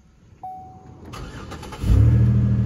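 A 2010 Chevy Impala's engine cranks briefly, then catches and settles into a steady, loud idle rumble close by.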